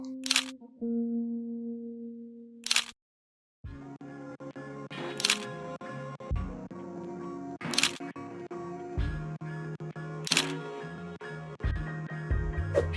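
A Leica M6 film camera is wound and operated close up, with repeated sharp mechanical clicks of the advance lever and shutter at an irregular pace, over a quiet background tone.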